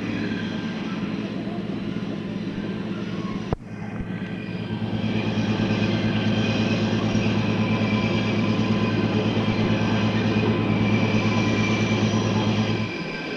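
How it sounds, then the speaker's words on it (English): A 1966 CPR train on the Rossland line backs onto the switch at Crown Point, its wheels screaming in a loud, sustained squeal over the rumble of the cars after a brief jolt, continuing almost to the end. "You can hear the wheels screaming as we come onto the switch at Crown Point."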